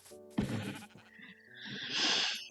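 A sheep in Minecraft Bedrock Edition on mobile bleats twice, with a short nasal call followed after a pause by a longer, brighter bleat, both clear and alone.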